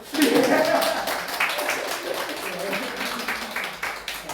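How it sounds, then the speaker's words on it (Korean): A church congregation claps during a service. Scattered, uneven hand claps sound together with voices talking, loudest at the start and then fading into lighter claps under the talk. "일단 박수."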